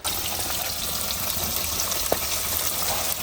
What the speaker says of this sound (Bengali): এই মাছ রান্নাতে মাছ ভাজাটাই একটু টাইম লাগে